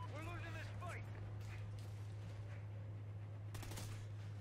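Gunfire in the Call of Duty Ghosts video game, a few quick bursts of shots, over steady background hum, with a player's voice talking quietly near the start.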